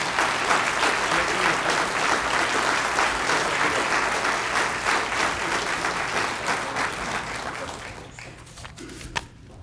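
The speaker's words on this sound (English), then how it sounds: "A round of applause, ladies and gentlemen." Sustained audience applause at a fire department awards ceremony, a thick, steady roar of clapping that gradually fades over the last couple of seconds, ending with a single sharp knock.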